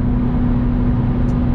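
Road noise inside a Ferrari 458 on older Pirelli P Zero tyres at normal cruising, a loud, steady low rumble and drone that fills the cabin evenly, with no speech.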